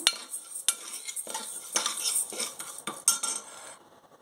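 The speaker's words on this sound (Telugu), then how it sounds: "అందులోని ఒక చిన్న గ్లాసు ఎర్ర కందిపప్పు అండి ఇది వేసుకొని వేయించుకోవాలి" Red lentils are stirred and dry-roasted in a pressure cooker on a stove, with a metal spoon scraping and clinking against the pot in irregular strokes, close and fairly quiet.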